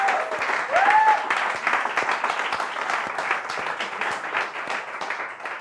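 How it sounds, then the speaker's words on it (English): Sustained audience applause for students at a coding bootcamp demo day, a dense steady wash of clapping with a brief whistle early on. "So big applause,"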